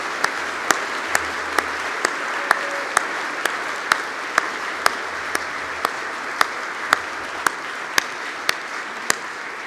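A crowd at an awards ceremony applauds steadily, with regular sharp clicks punctuating the clapping at even intervals.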